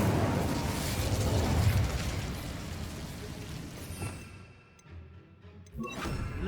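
Incendio fire spell cast in Hogwarts Legacy, a loud fiery burst and rushing roar that swells for a couple of seconds then fades, followed by a few softer whooshes and pops from further spell effects.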